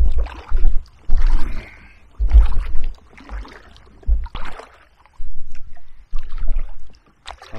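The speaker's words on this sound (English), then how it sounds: "I've literally been flat out pedaling against the flow and really heavy gusts of wind" A pedal boat churns upstream on the River Stour against the current in gusty wind, giving irregular bursts of splashing and sloshing water separated by short quiet gaps.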